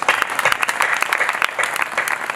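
Audience applause at a Hindi poetry recital, a steady run of crisp clapping from a live crowd lasting a couple of seconds.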